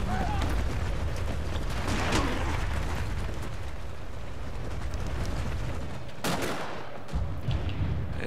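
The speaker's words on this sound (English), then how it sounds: "They're getting hammered with artillery." Artillery pounds troops in a Shogun 2 Total War battle of Toba-Fushimi in 1868, with sustained rumbling blasts and gunfire layered into a dense, loud battle din, and one sharp crack near the end.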